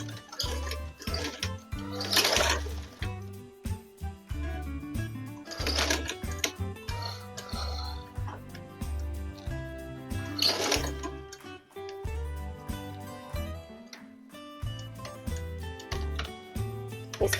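A sewing machine stitches a school bag in steady motor-driven runs, stopping and restarting in short bursts against a tonal background.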